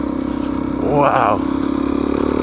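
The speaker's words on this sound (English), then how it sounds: "That's Mr. Mendo in front of me, riding one of Ness's KTMs" A KTM dirt motorcycle rides the White Rim Trail switchbacks near Moab, its engine a steady close drone that swells briefly midway, with a voice heard over it.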